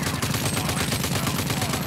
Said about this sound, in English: I am taking some heavy fire